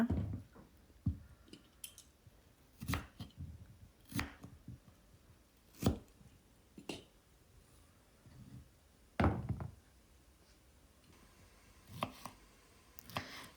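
Potatoes are cut into three or four pieces each, producing sparse, faint, irregular knife thuds and knocks spaced a second or two apart in a quiet kitchen.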